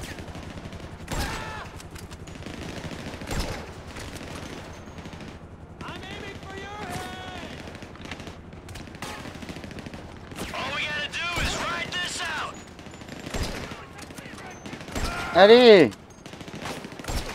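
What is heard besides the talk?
gunfire in the video game GTA V armored van attack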